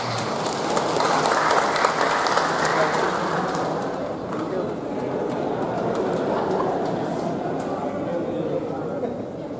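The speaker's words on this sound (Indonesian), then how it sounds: "Tepuk tangan" Applause in a regional parliament plenary session fills the hall, a dense clapping wash that swells early and then holds steady, with voices murmuring underneath throughout.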